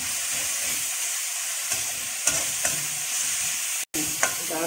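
Tomatoes sautéing with rock salt in a pan, a constant hissing sizzle broken by spoon taps and stirring scrapes, with a brief cut near the end.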